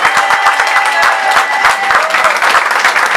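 A church congregation breaks into dense, rapid applause, many hands clapping together at a steady loud level, with voices calling out and acclaiming underneath the clapping.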